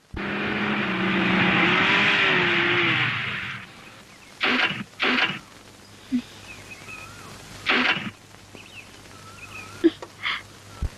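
A car engine approaches loudly for a few seconds, then stops, followed by door or handling thumps and faint chatter in a rural Tamil village scene.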